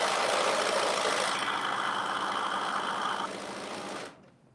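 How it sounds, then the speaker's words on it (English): A sewing machine stitches the seam of an oversized puffy-sleeve dress, running steadily and close for about four seconds with a dense, even whir before stopping abruptly. "And I'm going to sew right to the bottom of this dress."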